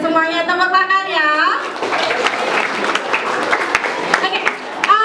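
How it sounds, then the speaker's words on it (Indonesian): Junior high students clap together during a school orientation session, a burst of hand claps that follows a short stretch of speech and then continues as lively, uneven clapping close by. "semuanya tepuk tangan ya"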